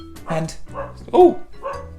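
A dog barks in a few short, close, yappy bursts spaced through the moment, with a person's voice briefly heard alongside.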